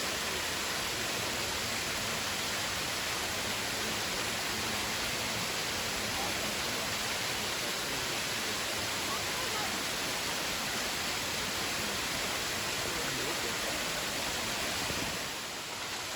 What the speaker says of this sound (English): And this one is Tom Branch Falls.